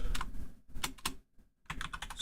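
Typing on a computer keyboard, up close, in quick bursts of key clicks broken by short pauses, with no talking.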